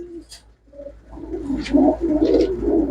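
Close pigeons give a few low, throaty coos, the calls building and overlapping toward the end with little else around.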